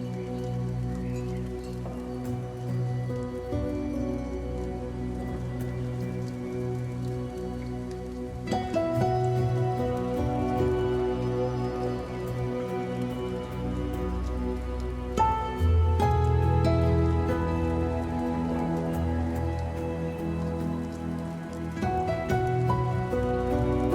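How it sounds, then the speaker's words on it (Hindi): Light rain drizzles on a hillside farm in the Pahadi mountains, soft patter and drips spread under a sustained musical background for the whole stretch. "यहाँ आते ही बूंदाबांदी फिर से शुरू हो गई है"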